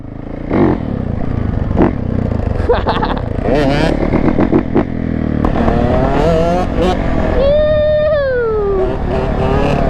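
Yamaha YZ450 dirt bike outdoors in a lot, engine revving and rising in pitch with a clattering mechanical edge, loud and close, mixed with a voice talking.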